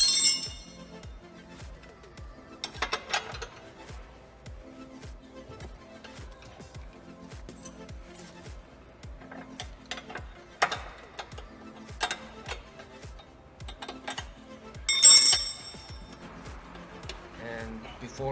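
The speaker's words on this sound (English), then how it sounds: "Then I started to remove those bolts. As you can see, I used the extension on my wrench" A wrench with an extension works control arm bolts on a 2006 Lexus GS 300, giving a steady, evenly spaced series of close, light clicks, broken by a few brief metallic clinks.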